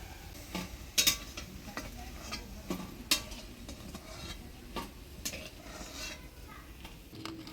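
Water hyacinth flower fritters frying in oil crackle with a soft, steady sizzle, punctuated by occasional sharp clinks and scrapes of a utensil against the pan.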